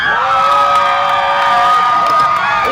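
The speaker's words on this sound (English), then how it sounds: "Adults, if you think you won that game, let me hear you make some noise." Adult crowd at a Big Bounce America inflatable bounce party loudly cheering, whooping and shouting together, a dense sustained roar of many voices throughout.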